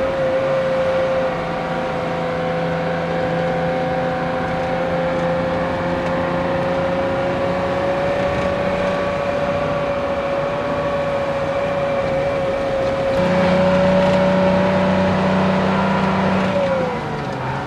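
A Bedford TM truck with a Detroit diesel engine drives along under load, its engine droning steadily at high revs with a sustained whine, then swelling louder near the end before the pitch drops away.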